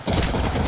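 Rapid sustained gunfire from the video game Apex Legends, a dense burst of loud automatic shots filling the short moment with no talk.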